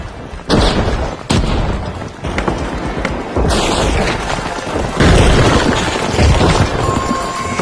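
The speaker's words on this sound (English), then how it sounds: "Frag grenade sent!" Frag grenade explosions from the video game The Finals: a series of loud, heavy booms at close range with sustained rumbling and crackling debris between the bursts.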